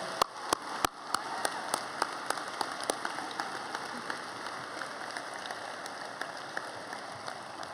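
Graduation-ceremony applause for the graduates' families: a broad, hissing wash of many people clapping, with a few loud, distinct claps standing out near the start before the sound settles into an even patter.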